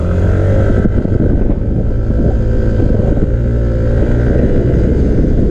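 A Yamaha NMAX motor scooter being ridden along a road, its steady engine drone close and loud beneath heavy wind buffeting the microphone.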